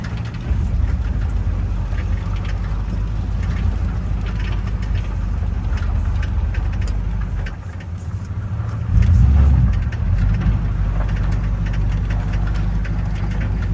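Engine of a 1973 El Camino running steadily while driving on its first outing in years, a loud continuous low rumble with a brief dip and swell as the throttle changes, no talk.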